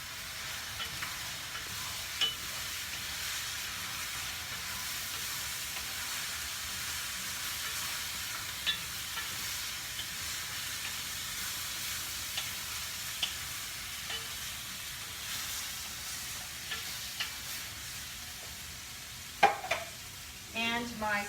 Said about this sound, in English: into here goes a can of tomatoes